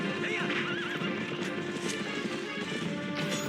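A horse in Zelda: Twilight Princess whinnies with a wavering high neigh over quick clip-clopping hoofbeats of a gallop, close and loud with a rumbling game background.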